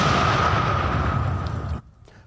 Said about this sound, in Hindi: इसमें धमाका कर इसे नष्ट कर दिया गया